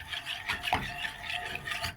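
A spoon scrapes and rubs through a flour-and-water mixture of about three spoons of flour to a mug of water while making asida, giving quiet, irregular close-up rasping strokes with no talking.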